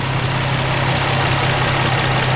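Infiniti FX35 with a VQ engine idling steadily, a continuous close, even hum with a low drone and no voices over it.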